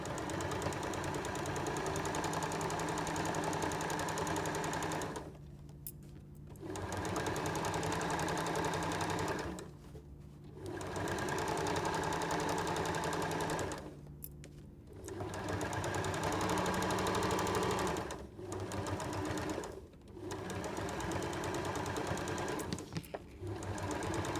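A sewing machine stitches through several layers of fabric on a peg bag, running in steady, even bursts of rapid needle chatter broken by about five brief pauses, close and alone.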